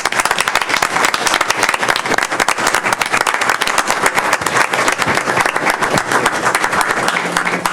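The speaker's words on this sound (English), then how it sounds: "we'd like to applaud them for a job well done" Applause at a Brookhaven city council meeting, a continuous, fairly close patter of many people clapping at steady loudness for the whole stretch.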